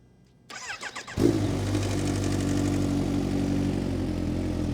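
A Kawasaki Ninja H2 supercharged motorcycle with an aftermarket exhaust, already warm, cranks for a moment after near silence, then fires into a loud, close idle that settles into a steady, raspy drone.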